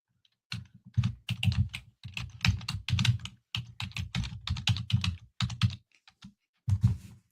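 Rapid typing on a computer keyboard, a dense run of close, crisp key clicks with brief pauses, loud and alone with no talk.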